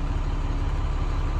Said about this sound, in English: Start it up. Sounds great, no issues with the engine.